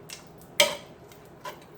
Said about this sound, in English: Stir my spaghetti a little bit because it's gotten